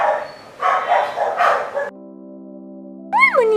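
Dogs bark in short loud bursts close to the microphone, followed by a steady tone and a high yelp or whimper at the end.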